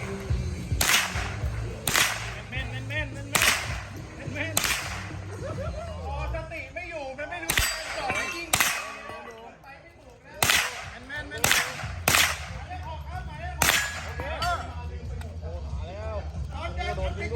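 A Tippmann 16-inch gun is test fired, about a dozen sharp cracks spaced a second or two apart and ringing out loud, while people talk throughout.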